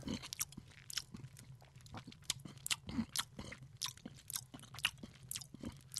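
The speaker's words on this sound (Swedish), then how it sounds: "sluta smaska!" Someone chews close up with quick, wet lip-smacking and crunchy bites, the irregular smacks coming in a steady stream over quiet background hiss.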